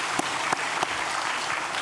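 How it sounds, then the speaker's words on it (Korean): A church congregation claps during a Sunday worship service, a dense, steady wash of applause filling the room with a few sharper claps standing out. "박수를 하나님께 드리겠습니다."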